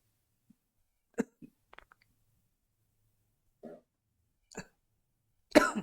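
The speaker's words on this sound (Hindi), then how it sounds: "थोड़ा सा एक्चुअली खांसी हो गई ना" Several short, sharp coughs scattered across a quiet stretch, with the last one the loudest and closest.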